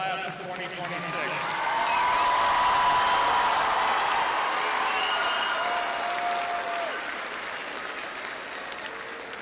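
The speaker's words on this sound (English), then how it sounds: "Can we have one final round of applause for our class of 2026?" Sustained applause from a large audience for the graduating class of 2026 at the North High School graduation ceremony, swelling to a peak and then holding steady, with scattered whoops and voices mixed into the clapping.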